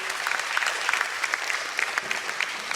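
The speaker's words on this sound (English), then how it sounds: "A huge round of applause for them, please." A conference audience applauds guests after a fireside chat session on business innovation, the room filled with continuous, even clapping from many hands at moderate loudness.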